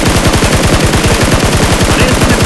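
Loud automatic gunfire in the BGMI mobile battle-royale game rattles out in fast, evenly spaced shots that run without a break for the whole stretch, close and dominant.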